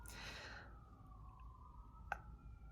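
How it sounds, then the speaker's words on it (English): A faint city emergency-vehicle siren wails and slides downward in pitch, fading into the distance beneath low traffic hum, with a single sharp click near the end. "city sirens."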